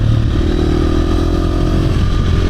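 A KTM 350 dirt bike, a 2024 SX-F or 2025 XC-F, revving hard on a woods trail ride, a loud steady close-up engine roar with faint clatter and no voices.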